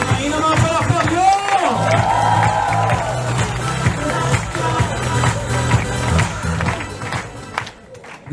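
Audience applause and cheering at a speaker's event as a guest is welcomed to the stage, dense clapping with whoops running steadily throughout, voices calling over it.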